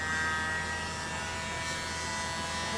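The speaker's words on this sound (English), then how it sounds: "I'm using my handy little blower" A small handheld electric blower whirs steadily and close over a multi-color pearl resin pour, a constant buzzing drone without pauses or speech.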